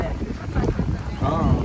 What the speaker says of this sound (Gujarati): બહુ પવન આવે છે